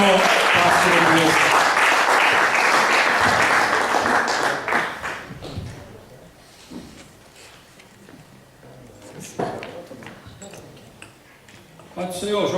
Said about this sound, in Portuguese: Vamos receber o pastor Dias com uma salva de palmas.